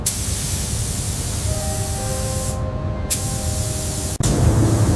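A spray gun lays a primer coat on a Rolls-Royce Phantom II during restoration, giving a loud, steady hiss that breaks off briefly and then resumes, heard alone without speech.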